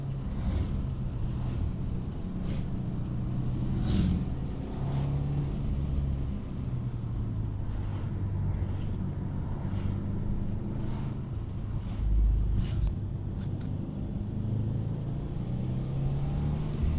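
Subaru WRX tS pulling away uphill under light throttle, a steady low engine hum with road and wind noise, moderate and continuous from inside the car.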